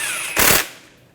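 A burst of ratcheting or impact-wrench rattle while the 11mm banjo bolt is tightened into a rear brake caliper of a 2006-2010 Hyundai Sonata. It is short and loud, lasts about a quarter second and is followed by fading hiss.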